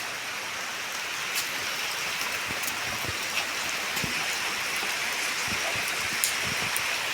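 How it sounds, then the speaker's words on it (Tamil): Steady rain falls outdoors at a rural home in a continuous wash of patter, with occasional louder drops striking nearby surfaces; no talking. "மழை பெய்யுற சவுண்டு கேட்குதா?"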